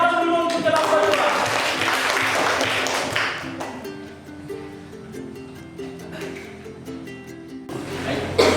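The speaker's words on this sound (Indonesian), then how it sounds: "Beri aplaus dulu untuk kelompok 2." Applause from a classroom audience for a student group about to present, a burst of clapping at the start that fades into scattered taps under voices.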